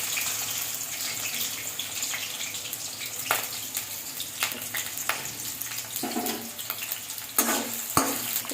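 Chopped onions frying in hot oil in a pan, a steady broadband sizzle with a few sharper crackles and stirring scrapes, close and fairly loud with no talking.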